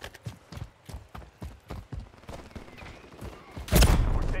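Gunfire in Call of Duty: Modern Warfare III, a run of sharp evenly spaced shots followed by a sudden loud burst near the end, with little talk over it.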